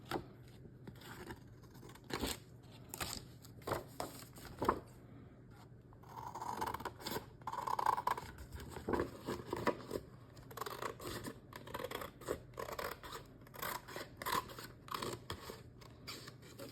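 Scissors trimming paper for a nutcracker kit folio, a series of crisp close snips and scraping cuts at an uneven rhythm, with no talking.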